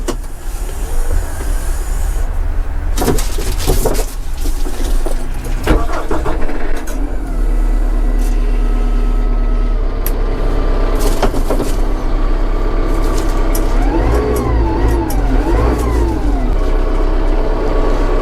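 A loud Kubota M4-073 tractor diesel engine cranks and turns over, then settles into a heavy rumbling idle with bursts of revving and clattering mechanical noise.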